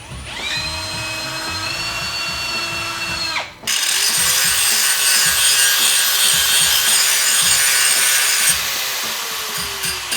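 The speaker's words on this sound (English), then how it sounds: "Took a die grinder to some metal and decided to just make my own." A die grinder cuts metal for a homemade part on a 20-year-old Schwinn Homegrown mountain bike, a loud, close, sustained high whine that stops briefly, then resumes as a harsher grinding rasp.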